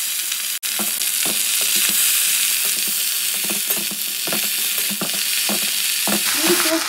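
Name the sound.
greens added to hot spice tempering, frying in pan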